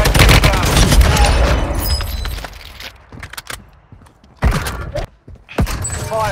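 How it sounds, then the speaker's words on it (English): Mortar strike explosions and heavy gunfire rumble loudly in the Warzone Mobile video game, dense booms giving way to sparser blasts and thuds, with a brief stretch of quieter sound between bursts. "Friendly mortar strike inbound."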